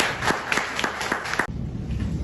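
An audience applauds to welcome a speaker at a youth event, a dense, steady wash of clapping close by that cuts off sharply partway through, leaving a quieter room tone.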